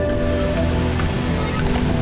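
Rushing water from a waterfall on a tour in Indonesia, a loud, dense, continuous roar of falling water with no talking.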